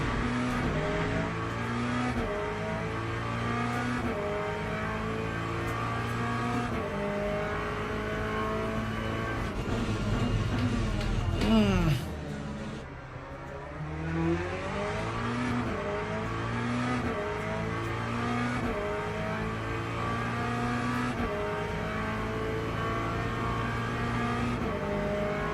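A race car engine in the Le Mans Ultimate sim racing game, droning loud and steady as it climbs and drops through gear changes, with a brief sharp downshift and lift near the middle before it pulls hard again.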